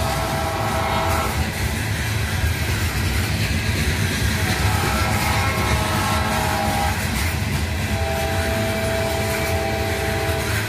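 A train rumbles past at a train park, loud and close, with rolling wheel noise and sustained horn-like tones rising and falling over about ten seconds.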